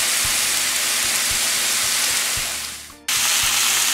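Jerk chicken pieces sizzle on a hot grill as they char, a loud, steady, close hiss that breaks off abruptly for a moment before resuming, with faint low thumps beneath.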